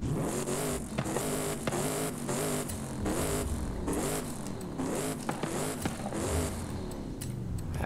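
A Toyota Tundra TRD Pro 6.7L V8 diesel truck engine revs repeatedly in surging bursts with a loud rumbling exhaust, each rise falling back before the next, close and continuous.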